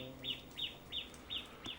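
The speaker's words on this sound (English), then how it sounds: "Birdsong here is different to the birdsong that you get back in the UK." Birds chirp in a Hong Kong hiking landscape, a repeated short high call sounding five times at a steady rhythm, faint over a low background hum.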